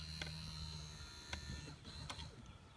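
A Mercedes W126/W124 power seat motor running on the bench, a faint, steady electric whir with a few light clicks, fairly quiet and close.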